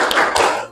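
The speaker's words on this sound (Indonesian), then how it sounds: "Tepuk semangat." A school class doing a rhythmic spirit clap during an Islamic studies lesson, a short burst of sharp, loud claps in quick pattern, close and clear with no talking over it.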